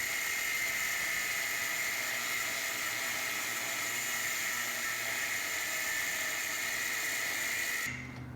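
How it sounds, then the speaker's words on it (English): Cutoff wheel grinding rivet heads off a Bronco during a prerunner teardown, a steady loud high-pitched whine that runs without a break and then cuts off abruptly near the end. "right now I'm just going to use a cutoff wheel because they're cheap."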